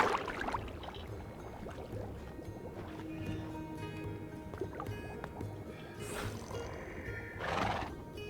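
A horse in the video game Project Architect 2 whinnies with a loud, shrill neigh, then gives a second neigh near the end, over a steady splashing water and boat-like backdrop.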